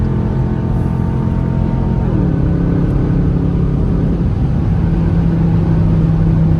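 A 2021 Dodge Durango R/T with a straight-pipe exhaust drones loudly and steadily from inside the cabin on a night drive, its engine note sliding lower partway through and settling into a low, even hum.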